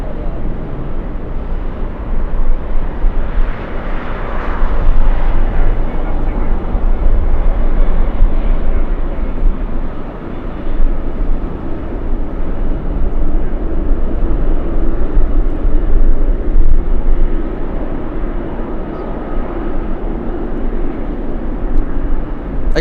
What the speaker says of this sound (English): Let's take a look at the 777 freighter on Alpha.